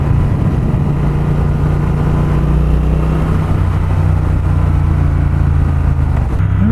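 A Triumph Speed Twin motorcycle engine pulls hard at high revs on the road, a loud, steady, dense roar heard close up from the rider's position that holds without a break.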